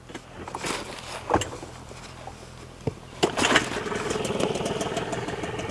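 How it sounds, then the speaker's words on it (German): A fishing boat's outboard motor starts with a few sharp bursts, then settles into a steady running drone close by, with no talk over it. "Da starte ich jetzt mal kurz den Motor."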